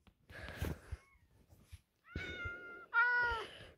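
Cats meow close by, several drawn-out cries with a strained, wheezy edge and short pauses between them, with nothing else heard.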